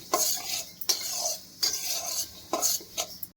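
Chillies, curry leaves and drumstick leaves roasting in a pan with a little oil are stirred in brisk strokes, the spoon scraping and clinking against the metal about every second over a faint sizzle; nobody speaks.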